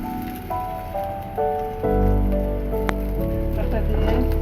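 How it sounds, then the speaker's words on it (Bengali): Garlic paste hits hot oil in a pan for a tilapia do-peyaja, giving a steady crackling sizzle that grows louder partway through, with a few clinks of utensils and a voice speaking in the background. "একটু তেল নাড়াচাড়া করে ভেজে একটু রসুন বাটা দিয়ে দিলাম"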